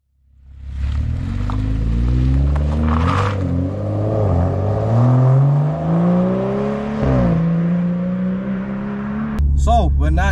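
A BMW M135i F20 revs up while driving, its engine note climbing and falling through several rising sweeps, loud and close throughout, ending in a short sharp burst of higher-pitched sound.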